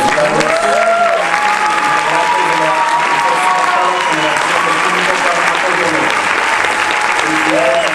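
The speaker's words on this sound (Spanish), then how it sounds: "A todos ellos, jóvenes graduados, démosle un fuerte aplauso" A crowd at a 2010 graduation ceremony applauds the graduates, loud and sustained clapping filling the whole stretch, with a few voices mixed in.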